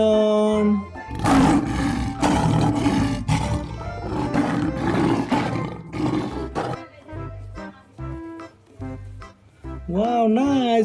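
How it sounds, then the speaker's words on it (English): Lion roars from a toy animal, several loud bursts with gaps, the last one warbling and electronic. "Wow, this is lion."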